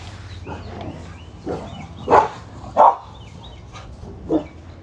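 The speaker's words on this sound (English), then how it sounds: "sorry, my dogs were going crazy" Several dogs bark in a handful of sharp, separate bursts over about five seconds, fairly close and loud against a quiet indoor background, with no talking.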